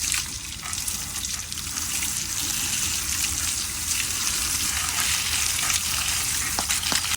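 Water splashing from a pipe onto a Willys jeep being washed; a continuous loud spray and gush with trickling and dripping, steady and close, with no talk.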